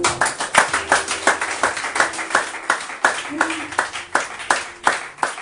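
A church congregation at a Sunday service clapping in a steady rhythmic beat, loud and close, with voices speaking and calling out over the clapping.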